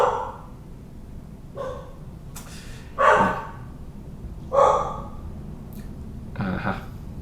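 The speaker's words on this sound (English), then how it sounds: "and that's my dog." A dog barks in about five separate bursts spread irregularly, fairly loud and close, with no one talking between the barks.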